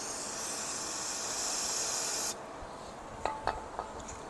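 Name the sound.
spraying brake cleaner on a brake light switch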